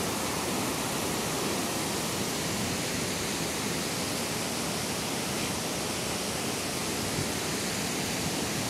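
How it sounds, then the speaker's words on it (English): Colasagia Falls on the Colasagia River in North Carolina roars with a steady, dense rush of falling water. The sound is close and constant, with no voices over it. "Colasagia River. Colasagia Falls."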